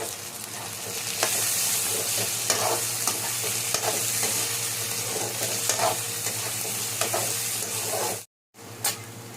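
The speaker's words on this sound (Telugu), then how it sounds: "ఇప్పుడైతే దీంట్లో గ్రీన్ పీస్ వేసుకొని బాగా ఫ్రై చేసుకోవాలి" Green peas and onions fry in a pan with a steady, close sizzle and scattered stirring scrapes, broken by a brief silent gap near the end.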